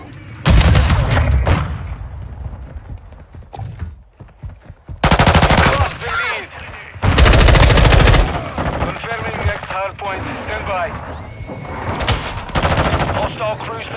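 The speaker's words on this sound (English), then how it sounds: "hostile cruise missile launched" Gunfire bursts and booms in Call of Duty Modern Warfare 2 around a cruise missile launch, loud heavy volleys separated by quieter stretches, with radio-style game voice lines mixed in.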